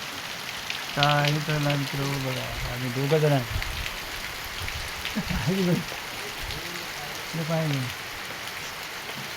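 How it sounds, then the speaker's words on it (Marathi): Heavy rain pouring down steadily as a loud, dense hiss close by, with someone talking over it in short bursts. "एवढं पाणी पडायला तुफान."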